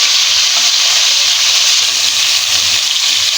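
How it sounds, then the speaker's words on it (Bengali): Fish (bata) frying in hot oil after being flipped, a loud continuous hissing sizzle with a brief soft clunk partway through and no talking. "মাছটা এখন আমরা উল্টিয়ে দেবো এক পাশ ভাজা হয়ে গেছে অন্য পাশ ভাজা করে উল্টিয়ে দিচ্ছি"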